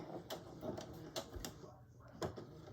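A sewing machine back-stitches through the quilted fabric layers of a boxy bag, giving a faint, quick run of needle taps with short pauses between bursts.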